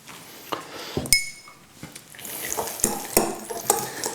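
Guacamole of avocado, coriander and lime juice gets mixed in a bowl, with a string of separate clinks and scrapes of a utensil against the dish, close and fairly loud, with no talking.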